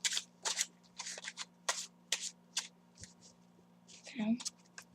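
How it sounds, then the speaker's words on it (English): A deck of playing cards is shuffled up close in a run of crisp, quick riffling bursts with brief pauses between them, quiet over a faint low hum, ending in a slightly longer flutter. "I'm just gonna give it a shuffle."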